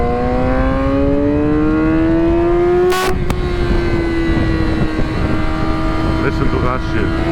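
Motorcycle engine revving up steadily, its pitch climbing then settling into a sustained high idle, loud and close throughout with a brief sharp burst midway.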